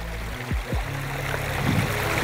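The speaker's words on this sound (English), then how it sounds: "the way you guys started this waterfall" Water flows through a pondless waterfall and stream where it wells up from a buried spillway, a steady close burble and trickle with a few low swooping tones early on.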